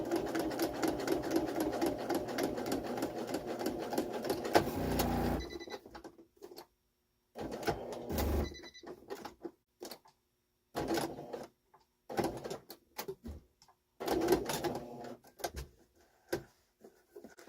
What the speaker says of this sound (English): Okay, so I'll go ahead and I will stitch